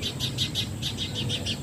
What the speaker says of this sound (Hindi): बर्ड्स की आवाज आ रही है इसको।